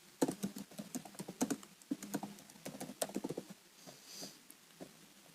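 Keys clack in quick irregular bursts as someone types a transaction description on a computer keyboard, close and fairly quiet, with short pauses between runs.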